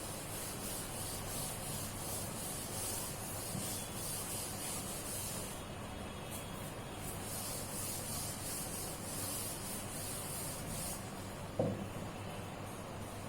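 Steady dry rubbing and scraping of an eraser across a classroom board, continuous and fairly close, with a brief sharper knock near the end and no talking.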